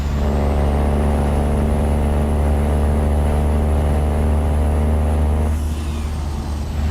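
A heavy truck's engine brake in a truck-driving simulator, a loud, steady droning rasp with a strong low rumble and a high whine, sustained for about five seconds before it eases off, with no voices.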